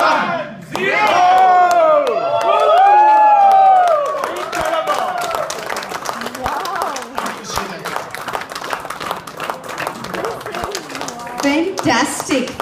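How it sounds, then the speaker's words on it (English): A large crowd at a Dell India event erupts with cheering, whooping and clapping after a countdown; loud sustained shouts and voices dominate at first, then settle into busy scattered clapping and crowd noise. "I think you guys should give yourself a louder round of applause, please."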